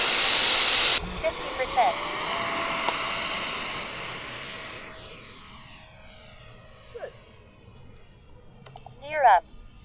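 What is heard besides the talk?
Raptor 70mm model jet engine powering up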